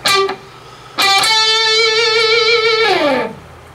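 A distorted electric guitar plays a short palm-muted note, then a sustained note with wavering vibrato that slides down in pitch at the end.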